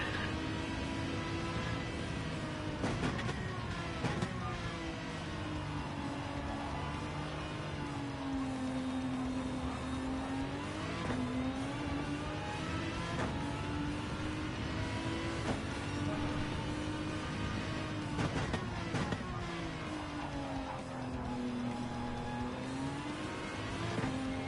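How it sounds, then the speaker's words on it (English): A torquey American V8 race car engine roars in a Gr3 racing game at Alsace, rising and falling through gear changes with steady revving over a long lap segment. The engine sound is continuous and at moderate level. "That torquey American V8."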